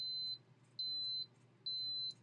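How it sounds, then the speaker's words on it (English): Three slow, evenly spaced high-pitched electronic beeps from a Canon AE-1 Program film camera's battery check, each about half a second long, separated by short pauses over a faint hum. "Slower beeps like this,"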